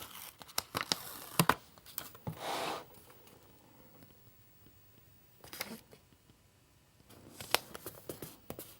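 A Happy Planner floral paper sticker is peeled from its backing, a crisp close tearing and crinkling with a few small taps and rustles around it, no talk.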